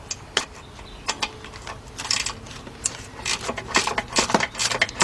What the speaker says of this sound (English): take my 14mm speed wrench and I'm gonna go in here and I'm gonna slowly,